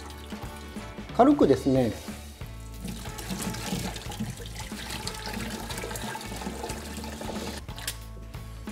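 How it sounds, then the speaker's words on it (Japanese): Hot water draining from boiled glass noodles for Korean japchae, with a brief splashing pour into a sink early on, followed by steady kitchen noise while a person talks over it. "ここでちょっとねお湯を切ります。"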